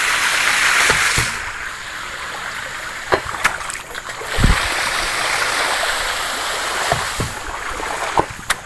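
An automatic hydram water pump running without electricity or fuel, heard as a steady rush of flowing water with irregular knocks and splashes scattered across it, close by and with no talk.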